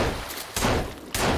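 A shotgun fires in the survival video game Sons Of The Forest, two loud broadband blasts spaced about half a second apart, each with a short decaying tail, with no talk over them.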